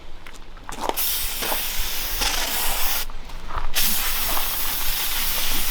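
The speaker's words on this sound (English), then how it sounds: "I'm gonna clean this with brake cleaner because it's got a bunch of like black" Brake cleaner sprayed from an aerosol can onto a mini bike part, a loud, close, continuous hiss with two brief pauses between bursts.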